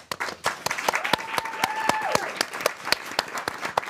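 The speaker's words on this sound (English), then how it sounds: "Round of applause." Studio audience applause at the close of a talk show episode, a dense burst of sharp, close claps that carries on steadily, with a faint tonal sound briefly in the background.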